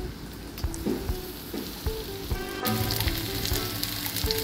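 Ginger garlic paste and green chilli fry in hot oil in a pan, a close, crackling sizzle that grows louder and denser partway through, with light stirring and no talk.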